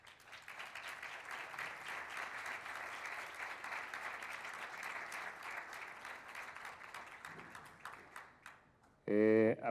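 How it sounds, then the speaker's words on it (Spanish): Steady, close applause from an audience welcoming a speaker at a Monterrey event, holding at an even level for about nine seconds before a voice briefly cuts in at the end. "Un aplauso."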